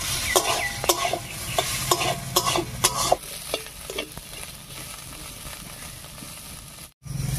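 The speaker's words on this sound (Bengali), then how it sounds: "ফোড়নের উপরে আলু আর চালটা দিয়ে একটু ভাজা ভাজা করে নিয়েছি" Potatoes and Gobindobhog rice frying over tempering spices in a pan on a drying clay stove, with a steady sizzle and several sharp stirring scrapes early on that give way to a quieter continuous fry.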